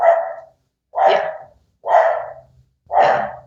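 A pet dog barks four times at an even, steady pace, close and loud, with nothing else heard.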